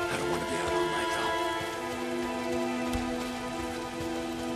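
Steady heavy rain falls in the video game Days Gone, a dense continuous patter on surfaces with a low hum beneath and occasional soft thuds.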